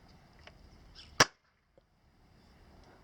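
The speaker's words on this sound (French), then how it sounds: "nous allons faire un petit test de mise à feu du rétaliateur. Juste une balle, comme ça." A Nerf Retaliator blaster fires a single foam dart outdoors, one sharp close snap with a brief airy burst, then near silence apart from a faint later tap.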